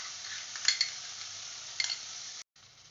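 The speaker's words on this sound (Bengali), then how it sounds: "মশলাটা খুব বেশি ভাজবো না, অল্প একটু নাড়াচাড়া করে" Eggplant frying with spice paste in a pan for a vegetarian greens dish, a steady close sizzle with a few soft scrapes and clinks of stirring, briefly cut off near the end.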